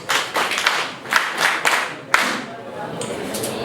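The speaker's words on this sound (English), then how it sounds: "Let us clap for her in her presence." An audience claps at a gathering, bursts of group clapping that rise and fall in a few waves, fairly close, with a brief pause before a last short flurry and some voices underneath.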